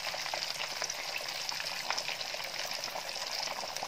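Chicken pieces for a KFC-style recipe deep-frying in hot oil, a steady, dense crackling sizzle with fine popping, close and continuous, without talk.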